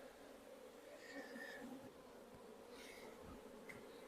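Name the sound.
honey bees buzzing at an open hive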